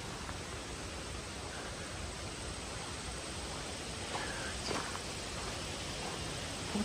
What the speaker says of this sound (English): The creek.